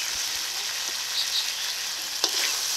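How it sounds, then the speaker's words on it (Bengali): Potatoes fry with spices in a pan, giving a steady, hissing sizzle. A few soft clinks and scrapes of stirring break through, and no one speaks. "এখন মশলার সঙ্গে আলুটাকে ভালো করে কষিয়ে নেব।"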